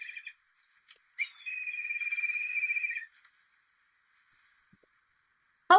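A recorded bird call played aloud during a young birders' learning game: a few short chirps, then one clear sustained whistled note lasting about a second and a half, followed by silence and a brief click.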